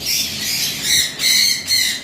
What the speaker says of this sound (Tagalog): Magagandang ibon ko ito.